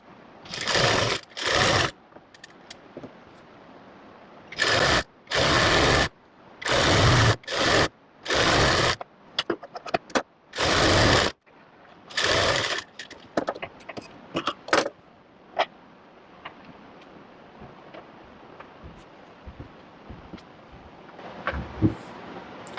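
A sewing machine stitches a strip for a ladies' summer coat-suit in repeated short runs of steady whirring, separated by pauses and small clicks of handling.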